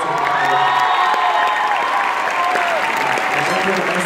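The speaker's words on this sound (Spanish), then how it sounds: "Para que pido un aplauso" A theatre audience at a university show applauds loudly and steadily, dense clapping mixed with cheers and whoops that carries through without a break.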